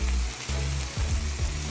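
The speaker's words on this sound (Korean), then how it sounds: "지글지글 굽다 보면" Meat and asparagus sizzle on a hot grill with a steady crackling fry, close and continuous, with a few soft pops and shifts as the pieces settle.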